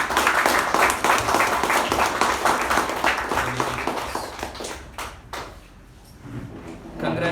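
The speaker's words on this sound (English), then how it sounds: "Give these people a round of applause." An audience at a Toastmasters meeting gives a dense burst of applause that is loud at first and then thins out and fades, with a faint voice returning at the end.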